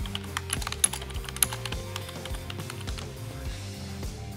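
Typing on a computer keyboard while entering lines into an inspection report in PPE management software, a steady run of close, light key clicks with a few sharper taps, heard alone with a faint background hum.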